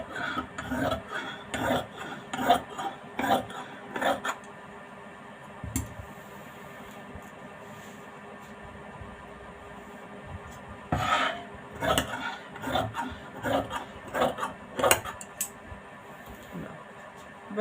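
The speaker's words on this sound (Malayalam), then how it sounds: "മാർക്ക് എങ്ങനെയാണുള്ള അതേപോലെ കട്ട് ചെയ്ത് കൊണ്ടുപോകണം കേട്ടോ." Scissors snip through fabric for a frock kurti in bursts of short, crisp cuts, with a quiet pause in the middle.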